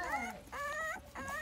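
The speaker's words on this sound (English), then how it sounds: "you hear the little whimpering" Rottweiler puppies whimpering, three high, wavering whines in quick succession, close and clear with no talking over them.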